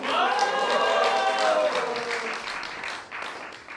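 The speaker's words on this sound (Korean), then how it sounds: "제 박수 이렇게 억지로 받아보긴 처음이네요" A burst of audience applause at a magic show, dense clapping that gradually thins out, with a voice sounding over the start.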